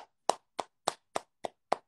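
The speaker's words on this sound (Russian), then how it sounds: "Алексей Нелюбов, ваши аплодисменты" Six single hand claps ring out at a slow, even pace, each crisp and isolated with silence between, near and alone, after a comedian at an online open mic.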